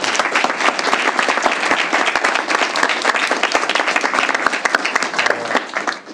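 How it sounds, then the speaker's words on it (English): Sustained, dense applause from a school board meeting audience honouring students, steady and loud for the full length with no talk over it. "So if we can have one more round of applause for the students."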